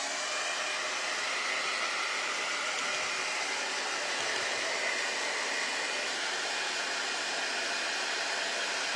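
A hair dryer blows steadily over freshly painted craft pieces, a loud, continuous whooshing hiss that stays even and unbroken throughout.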